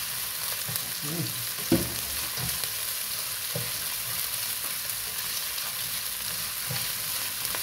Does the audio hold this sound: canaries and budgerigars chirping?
no